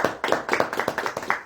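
A church congregation gives vigorous applause, with many hands clapping in a brisk, uneven rhythm that stays close and loud throughout.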